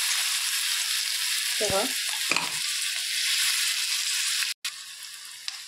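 Chili thecha and a pinch of asafoetida frying in a pan, with a steady, close sizzling hiss broken by a few scraping stirs. A voice speaks one brief word.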